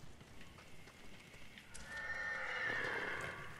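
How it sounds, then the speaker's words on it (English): Horses in the video game Ghost of Tsushima give a faint, distant whinny and then a rising neigh, with soft hoof clops underneath and no talking. "Calm down, horses."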